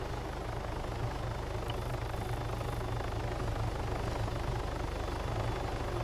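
A helicopter in the video game ARMA 3 gives a steady, continuous rotor and engine drone with a low thumping pulse, constant in loudness throughout and with no talk.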